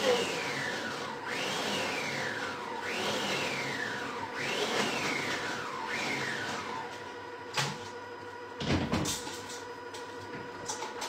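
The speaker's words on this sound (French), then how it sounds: "J'ai mixé un peu trop longtemps, donc résultat, ça m'a fait une boule de chocolat." A kitchen multicooker blends chocolate at speed 13, giving a steady whirring motor drone with repeated rising-and-falling sweeps about every second and a half, followed by a few sharp clunks near the end.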